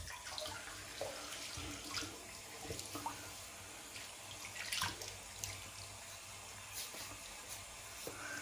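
Tap water runs steadily into a sink as the face is wet before shaving, a continuous close hiss and splash with small shifts in the flow and no talk over it.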